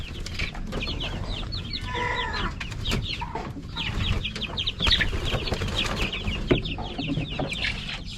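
White RTL chickens in a roomy coop clucking and chattering continuously, several birds overlapping close by at a steady moderate level, with no one speaking.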